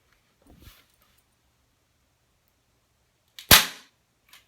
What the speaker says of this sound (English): I shot the handkerchief underneath it.